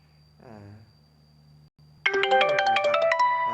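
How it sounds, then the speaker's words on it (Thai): A mobile phone's ringtone sounds for an incoming call during a live stream: a quiet tone and a short rising chime, then a loud, bright melodic ringtone that kicks in and plays on with a steady rhythm. "มีสายเข้า เจ้าของแบรนด์โทรมา"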